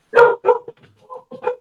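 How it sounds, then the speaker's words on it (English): Household dogs bark nearby: two strong barks, then softer, shorter barks and yips trailing off. No one speaks over them. "I don't know if you guys can hear my dogs in the background"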